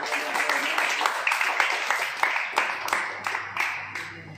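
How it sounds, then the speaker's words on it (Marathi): An audience claps at a school prize ceremony for a children's environmental drama festival in Ratnagiri, producing a steady run of regular, rhythmic clap bursts that fill the room before gradually thinning out. "एकदा जोरदार टाळ्या"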